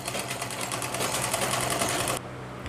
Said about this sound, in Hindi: इस प्रकार से हम इसमें सिलाई लगा लेंगे और इसी तरह से चारों पार्ट्स में सिलाई हमको लगानी है